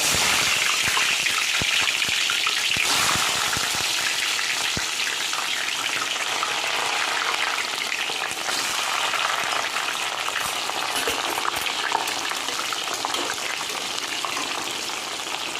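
Bitter gourd (karela) frying hard in hot oil, a loud, steady, dense sizzle with bubbling and stirring that holds through the whole stretch with no talk.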